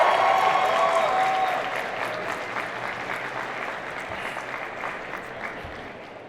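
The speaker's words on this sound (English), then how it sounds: "Another round of applause for our beautiful couple." Wedding guests applaud the couple, Shania and Blake, with a dense, continuous wash of clapping that starts loud and then eases to a softer, sustained level, with no voices over it.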